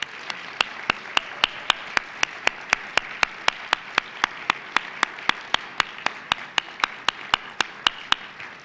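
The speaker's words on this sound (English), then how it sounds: "if we can give them a rousing round of applause" Applause from an evening event audience, thin and fairly quiet, with claps falling in a regular, even rhythm throughout.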